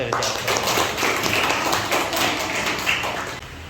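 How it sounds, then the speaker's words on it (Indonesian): An audience at a university lecture session claps on request, a burst of scattered, moderately loud hand claps that runs for a few seconds with some voices underneath. "Tepuk tangan dulu dong"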